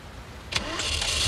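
A car engine cranks and catches, then settles into a rising run as the vehicle pulls away, quiet at first and growing a little louder by the end.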